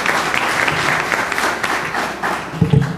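At a gaming town hall Q&A, the audience gives a full round of steady applause, a dense crowd of clapping hands with brief swells and a low voice near the end.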